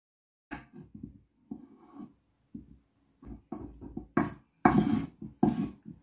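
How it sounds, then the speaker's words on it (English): Knife chopping Irish potatoes and carrots into small pieces on a board, a series of close, irregular cuts and soft thuds, growing louder and sharper toward the end, no voice. "we're now gonna go ahead and cut our Irish potatoes and also our carrots"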